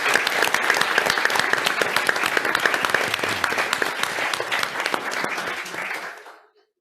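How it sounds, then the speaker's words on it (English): A conference audience gives a big round of applause, many hands clapping loudly and steadily before fading out to silence at the end. "I will give you a very big round of applause for everyone"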